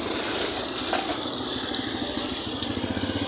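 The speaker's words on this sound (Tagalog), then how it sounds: "Baby, may motor!" A motorcycle passes nearby, its engine giving a steady, moderately loud drone with a low rumble that carries through the whole stretch.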